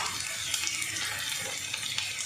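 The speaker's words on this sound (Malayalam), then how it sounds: "അപ്പോൾ താളിക്കാൻ ഉള്ളിയും കറിവേപ്പിലയും വെച്ച് കൊടുത്തിട്ടുണ്ട്" Onion and curry leaves frying in hot oil to temper a fish curry, making a low, even sizzle with faint crackles, quiet and unbroken by talk.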